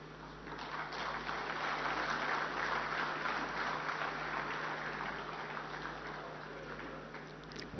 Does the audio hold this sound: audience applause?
yes